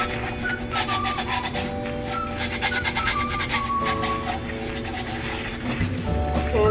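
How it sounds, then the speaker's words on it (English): Fine sandpaper rubbing along the edge of a chipped drinking glass, a steady back-and-forth rasping scrape at close range that runs continuously at moderate volume. "Use my sandpaper."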